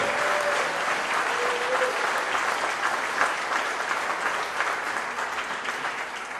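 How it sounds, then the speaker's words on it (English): Audience at a JD Vance campaign event in Philadelphia applauds warmly, a steady, dense wash of clapping from a large crowd that continues evenly throughout, with a faint voice at the start. "Give a round of applause for Sam T."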